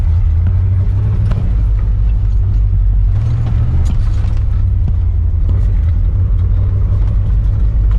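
A 1989 Chevy 1500 4x4 pickup truck rumbles steadily as it drives around a yard, its low engine drone continuous and close with no talking over it.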